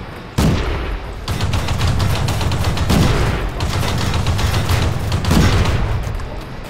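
Heavy tank cannon fire and battle noise from World of Tanks with an M2 platoon, a loud sustained roar broken by several booming shots roughly every second or two.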